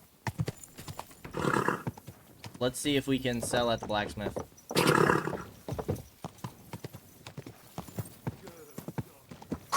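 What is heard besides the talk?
horse hooves trotting in Kingdom Come Deliverance 2 video game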